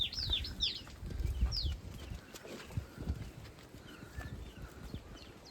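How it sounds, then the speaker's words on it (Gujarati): Kankrej cattle walk along a road, their hooves making a steady, close clip-clop of uneven thuds while birds chirp in the background. "ગાયો છે, ગાયો હે વાતાભાઈની ગાયો."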